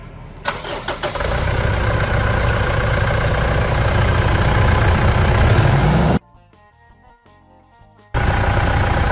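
A Mitsubishi Triton 3.2 diesel engine runs loud and close, its roar swelling as it is revved, then cutting off abruptly for about two seconds before surging back to a steady roar.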